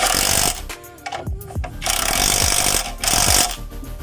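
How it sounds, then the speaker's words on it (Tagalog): An impact wrench works on a brake repair in bursts of loud, rapid hammering, with short pauses between, and metallic clinks and handling noises can be heard in the gaps. "ako kasi gumagamit ako ng impact kasi mas mabilis ito."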